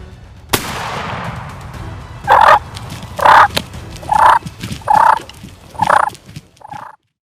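Wild turkeys gobble in a series of six loud, evenly spaced rattling calls after one sharp crack, close by and with no talk over them.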